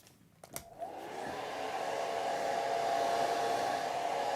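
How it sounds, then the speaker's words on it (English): Blow dryer switched on to dry a wet watercolor landscape painting, starting with a couple of clicks, then spinning up into a steady, close whirring blast that holds on alone. "So I'm going to turn the blow dryer on."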